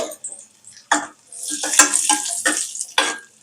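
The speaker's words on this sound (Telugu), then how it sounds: "ఇప్పుడు కిష్మిష్ వేస్తున్నాను కొద్దిగా వేయించుకుంటే సరిపోద్దండి" Raisins fry in oil in a pan for a semiya and sago sweet. There is a quick run of crackly sizzling bursts with a few stirring scrapes, fairly close and loud, and no talking.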